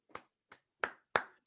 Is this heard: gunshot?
no